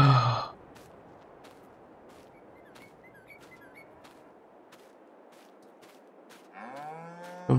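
Cows in Farming Simulator 22 give a loud lowing moo at the start and another rising moo at the end, with a steady low farmyard ambience and faint ticks in between.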